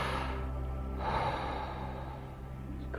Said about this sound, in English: really drawing the breath in